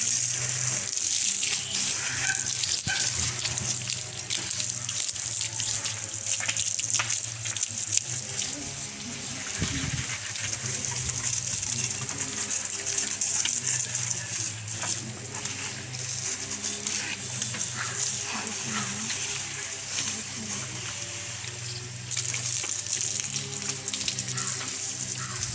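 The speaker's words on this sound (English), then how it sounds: "Just spray a little bit water on the disc" Water sprayed onto a bicycle disc brake during washing, a continuous hissing spray close by with shifting intensity over the whole stretch.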